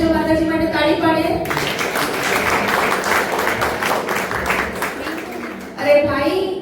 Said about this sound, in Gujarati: આપણે જરાક જોરથી તાળી પાડીએ તો એનર્જી આવે